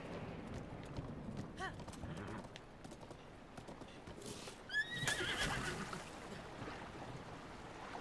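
A horse in the Zelda Breath of the Wild video game gives a clear, rising neigh midway, set against steady rain and ambient noise, with faint hoof clip-clops and quiet voices in the background.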